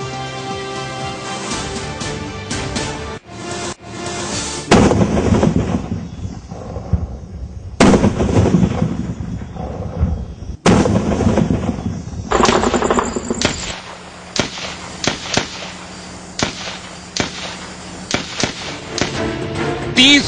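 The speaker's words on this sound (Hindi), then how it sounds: "रुक रुक कर पाकिस्तान की ओर से फायरिंग जारी है।" Cross-border firing strikes BSF border posts in the RS Pura sector, with loud bursts of machine-gun fire and single shots coming in stops and starts, separated by short pauses and one abrupt cutoff.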